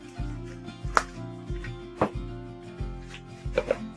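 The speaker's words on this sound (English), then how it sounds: "Give that a good stir." A spoon stirs a cream pasta sauce in a pan, making rhythmic scraping strokes roughly every half second over a steady low kitchen hum. The sound is close and fairly quiet.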